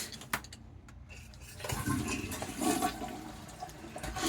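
A toilet in a private hostel water closet flushes with a sudden rushing gush that swells and churns, close and loud, after a few small clicks and clunks, with no voices.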